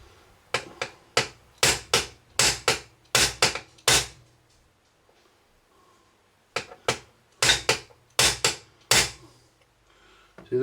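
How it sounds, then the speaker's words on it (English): Hammer blows struck on a drill bit set against a Garrard SP25 Mk 4 turntable: sharp metallic taps, close and loud, in two bursts of rapid, irregular strikes separated by a quiet pause. "and then hit the fucker with the hammer."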